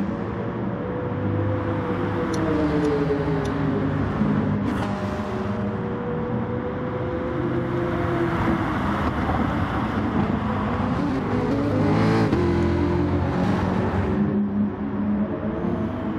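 Several racing cars in a sim racing game pass in a close train through corners at the Nürburgring GP circuit, engines droning and shifting pitch steadily and loudly throughout, with no talk.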